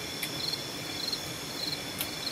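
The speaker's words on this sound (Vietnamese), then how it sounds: "Ban đêm này chỉ có những cái tiếng của những cái con côn trùng với lại là những con thú rừng ấy" Insects chirp in quiet night air in a forest, with repeated high trills over a soft, steady background hiss and no voices.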